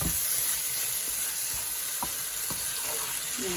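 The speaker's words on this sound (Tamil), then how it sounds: "இது நல்லா அந்த எண்ணெயில் அப்படியே வதங்க வேணும்" Banana flower biryani ingredients sautéing in hot oil, a steady close hiss of frying with a few soft clicks of a spoon against the pan.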